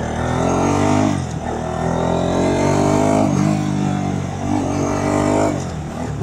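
A Bajaj Pulsar RS200 motorcycle engine droning steadily while riding at night, its rough harmonic note rising and dipping slightly with throttle changes, loud and close throughout with no talk.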